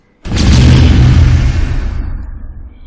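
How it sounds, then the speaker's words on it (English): An RPG rocket explosion in an Unreal Engine game demo hits as one sudden, loud, heavy boom whose deep rumble fades away over about two seconds, with no other sound around it. "let's see if the same thing happens when I shoot with the RPG"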